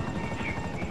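Helicopter rotor whir in GTA Online during an online multiplayer session, a steady, dense drone filling the whole second, close and moderately loud with no clear speech over it.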